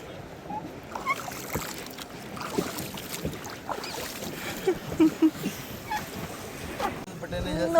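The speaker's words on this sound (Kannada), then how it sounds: "ನಾವು ಬೋಟಿಂಗ್ ಮಾಡ್ತಾ ಇದ್ವಿ" Pedal boat out on Devanhalli Lake, a quiet wash of water churning and sloshing against the hull with irregular soft splashes, fairly close and steady throughout.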